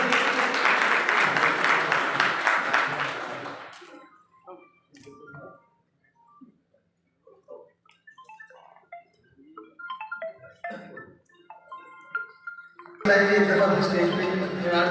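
Applause at the Pride of Samundri Award 2023 ceremony, a dense burst of clapping that fades out after about four seconds, followed by quieter scattered sounds and another loud burst near the end.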